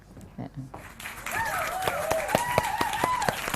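An audience at a community batik-culture event claps rhythmically in quick, even beats while a person talks loudly over the applause nearby.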